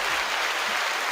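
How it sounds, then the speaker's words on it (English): A canned applause sound effect played during a podcast-style interview, a short steady wash of clapping lasting about a second at moderate level, with no voices over it. "A round of applause."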